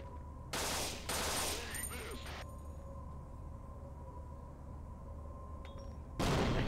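Bursts of turret gunfire in Half-Life, two short loud volleys close together early, then a steady humming lull before another burst starts at the end.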